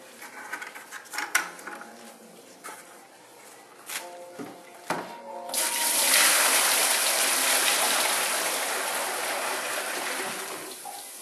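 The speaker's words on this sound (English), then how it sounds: "I'm going to be adding the water that I poured off from the buckets." Water from buckets poured into a home aquarium tank, a few clunks and handling knocks at first, then a steady rushing splash of pouring that continues to the end.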